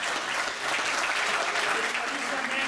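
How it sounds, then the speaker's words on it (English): Audience at a Toys for Tots show giving sustained, dense applause, loud and close, a full round of clapping with a crowd murmur underneath. "Let's give him a big round of applause."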